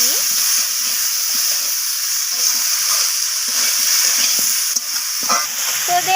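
Chopped vegetables with salt for a Malabar spinach and small shrimp dish being stirred and fried in a pan, giving a steady close sizzle and hiss broken by the scrape of a spatula.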